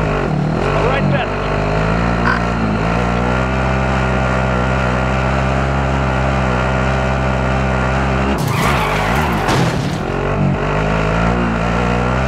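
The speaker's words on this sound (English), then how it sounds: "Light vehicle. Okay. I will drive." Engine of a light vehicle in Call of Duty driving continuously and loud throughout, with a brief harsh skid or tire squeal near the end.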